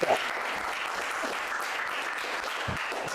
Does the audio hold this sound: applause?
yes